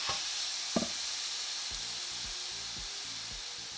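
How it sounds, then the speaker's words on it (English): Angus beef roast laid fat side down in a preheated pot sears with a loud, continuous sizzle, a couple of brief thuds near the start as it settles. "Oh, I love that sizzle."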